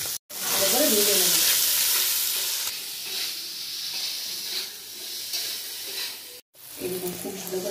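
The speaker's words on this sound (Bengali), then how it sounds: "লবণ, হলুদ দিয়ে ভালো করে ভেজে নেব।" Curry leaves, salt and turmeric fry in hot oil for flattened-rice pilaf, giving a loud, continuous sizzle with stirring scrapes that eases slightly partway through, with two brief gaps.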